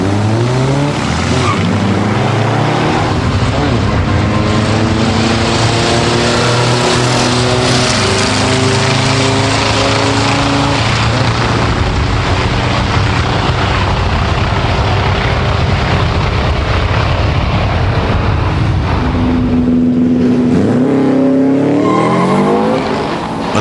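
A Subaru-engined VW Beetle drag race car roars loudly and close as it launches and accelerates, its engine note rising through repeated gear changes before easing off at the end.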